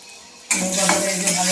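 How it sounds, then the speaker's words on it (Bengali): Neem leaves frying in a pan, a loud close sizzle bursting in suddenly and continuing steadily, with faint scraping of a utensil against the pan. "নিম পাতাটা এই যে ভাজা ভাজা হচ্ছে"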